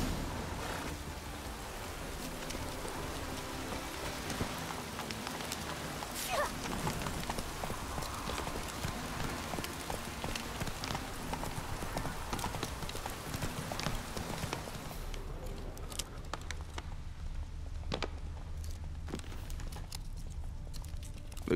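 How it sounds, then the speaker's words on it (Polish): Horse hooves clip-clop steadily at a trot through the whole stretch in The Witcher 3: Wild Hunt, close and continuous over a dense ambient game soundscape, thinning out near the end. "Wygląda na to, że koń zaczął kuleć."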